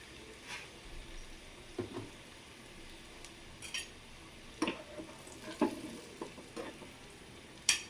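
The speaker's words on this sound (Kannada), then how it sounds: "ಅದು ಸ್ವಲ್ಪ ಬೆಳ್ಳುಳ್ಳಿ ಫ್ರೈ ಆಗಬೇಕು ನೋಡಿ" Garlic frying in oil for a sambar tempering gives a faint soft sizzle, punctuated by a series of light clinks and scrapes of a spoon against the pan.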